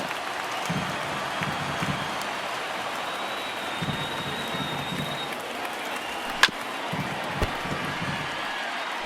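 A stadium crowd of 27,000 in an MLB The Show baseball game gives a steady, rain-like wash of cheering and applause that holds throughout, with a couple of sharp bat or ball knocks.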